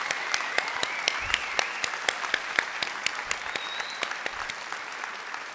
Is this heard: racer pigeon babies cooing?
no